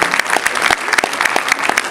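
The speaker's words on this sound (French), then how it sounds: "je vous demande de les applaudir très très fort" A crowd applauds at a cosplay contest during the Ludinam 2019 event, dense steady clapping that stays loud and continuous throughout the short burst.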